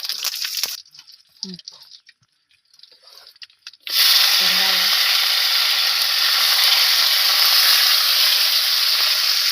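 Cinnamon bark and fennel seeds dropped into hot oil for a chicken dish start a loud, steady sizzle and hiss close by, after a few seconds of quiet handling sounds and light clinks.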